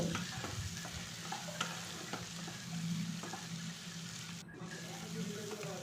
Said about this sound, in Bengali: ব্রাউন কালারের মতন পেঁয়াজগুলো ভাজা ভাজা করে নেব।